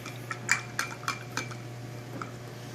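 Coral food is stirred in a small container, producing a handful of light, close clinks and taps of a utensil against its sides, quiet and irregular against a faint hum.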